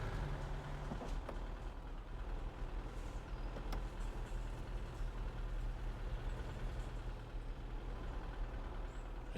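A Land Rover Defender D90 sits stuck in deep mud in SnowRunner, its engine droning in a steady low rumble with light mechanical clunks, the note holding level throughout.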